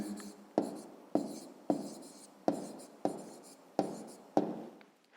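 A pen writing a math answer on paper, eight quick scratching strokes in an even rhythm, close and quiet, with no talking.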